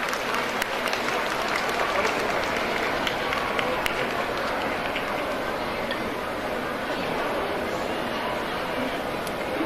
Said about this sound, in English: I request all the parents to give a huge round of applause.